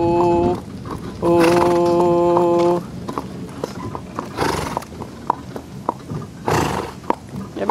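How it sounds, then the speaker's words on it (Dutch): A horse pulling a cart for its first time neighs twice in long loud whinnies, then its hooves clip-clop in a steady rhythm close by, with a quiet voice now and then. "Je bent een heel braaf paard."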